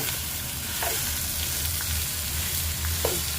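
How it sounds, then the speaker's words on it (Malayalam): Three sliced onions fry in a pan, a steady close sizzle with a few soft stirring scrapes and no voices. "ഒരു 3 സവാളയാണ് ഇട്ടത്. സവാള ഒന്ന് വരണ്ട് വരണം."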